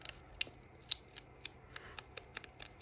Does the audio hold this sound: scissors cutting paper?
yes